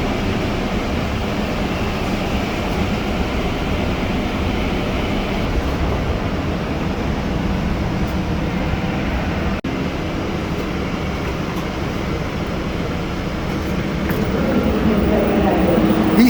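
A Los Angeles Metro light rail train sits at Little Tokyo Arts District Station. It gives off a steady mechanical rumble and hum at moderate loudness that swells slightly near the end.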